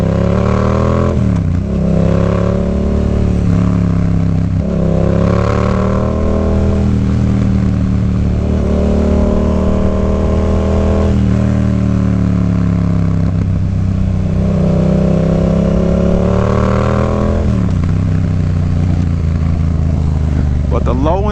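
Yamaha FZ-07 motorcycle engine revving loudly and continuously, its pitch rising and falling in repeated surges as the throttle opens and closes, with some talk mixed in.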